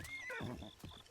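A horse neighs in the video game Breath of the Wild, one short whinny rising and then falling, fairly quiet and heard alone.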